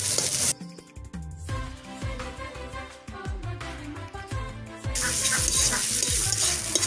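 Salt, turmeric and cumin powder are stirred into a frying pan, giving a scraping, sizzling sound with repeated rhythmic strokes of the spoon against the pan, close and clear with no talking.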